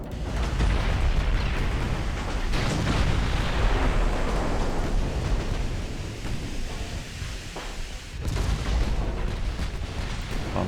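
A shell hit detonating the A turret magazine of a warship, the Scharnhorst, in a naval battle game: a heavy, sustained roaring blast and rumbling booms that stay loud throughout, with a sharper crack near the end.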